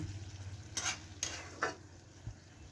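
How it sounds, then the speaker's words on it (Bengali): Potato and eggplant pieces frying in a pan, a soft steady sizzle broken by a few sharp scrapes and clinks of a spatula stirring against the pan, close and fairly quiet. "আর আলু বেগুনটা এভাবে আগের থেকে লাল করে ভেজে উঠিয়ে নিতে হবে।"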